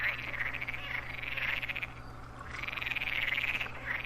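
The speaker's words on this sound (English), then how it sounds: "you can hear the frogs chirping and birds singing" Frogs croak in a steady, dense chorus in Farming Simulator 2013, with a brief lull midway before the trilling resumes, over a low constant hum.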